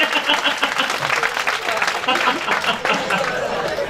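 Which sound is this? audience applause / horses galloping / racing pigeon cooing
audience applause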